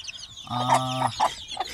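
A mother hen that has naturally hatched her chicks gives a loud, drawn-out clucking call close up, followed by a couple of shorter clucks.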